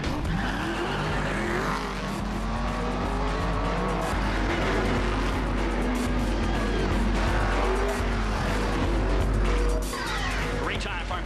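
A Farm Bureau Insurance Modifieds race car heads out first on a qualifying lap for a 25-lap short-track event, its engine roaring loudly with tire squeal as it passes, while a voice talks over it throughout.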